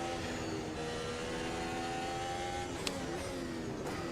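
A Formula 1 car engine in the Dream F1 racing game, overheating from a coolant leak, holds a steady, loud mechanical drone with no pause, with two brief crackling spikes near the end.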